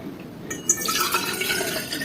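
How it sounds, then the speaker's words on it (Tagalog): Cold water pours into a container, a steady trickling fill that rises after a brief quiet start and runs on to the end. "Lagyan natin ng malamig na tubig"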